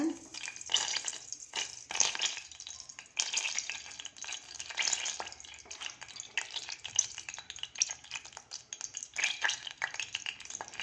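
Oil and ghee sizzle steadily in a pressure cooker pot, with intermittent scraping and clinking of a spoon stirring; no talking.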